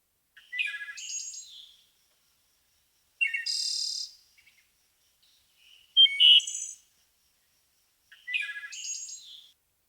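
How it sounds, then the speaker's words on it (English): Kiwi bird calls played from a recording: four separate bursts of shrill, high chirping and whistling notes spaced a couple of seconds apart, clear and alone against silence. "Birds are kiwi."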